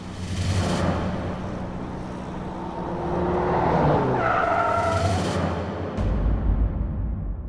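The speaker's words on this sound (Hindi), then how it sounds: "पता नहीं, अचानक से बंद हो गई। शायद इंजन में कुछ प्रॉब्लम होगी।" A car on an open road skids and brakes to a sudden halt with a brief tire squeal, the engine cutting out abruptly near the end.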